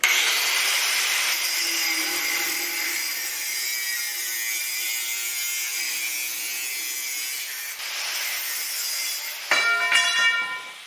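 A saw with a new blade cuts steadily through steel fence top rail pipe clamped in a vise, a continuous close grinding rasp that shifts near the end with a brief metallic scrape.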